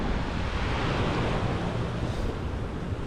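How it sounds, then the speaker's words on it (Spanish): Ocean waves on the north beach of Isla Mujeres, with slightly stronger swell than usual, make a continuous loud broadband wash mixed with wind noise. No voices are heard. "Hay un oleaje un poquito más fuerte."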